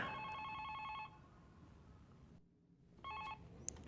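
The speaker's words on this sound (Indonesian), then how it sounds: "setelah menonton video tersebut, telepon sang dosen pun berbunyi" A telephone ringing in a horror film, a trilling electronic bell heard in two bursts separated by a hushed pause, fairly faint under a low background rumble.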